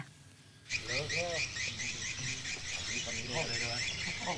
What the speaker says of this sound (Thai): เสียงเรียกนกที่ดังออกจากตึกแถว